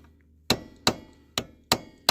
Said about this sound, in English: grab your punch, your hammer